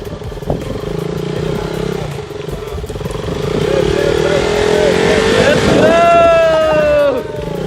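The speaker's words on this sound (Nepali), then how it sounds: "ल फाइनल्ली दुइटै बाइक आइसकेको छ" Two motorcycles arriving on a rough, uneven road on the route from Kathmandu to Sisneri, engines rising louder as they draw near with rattling and revving, mixed with people talking nearby.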